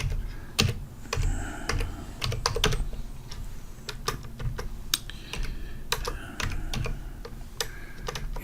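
Typing on a computer keyboard while filling in IRS Form 1120S tax software, with irregular bursts of sharp key clicks and taps at close range throughout, with no voice.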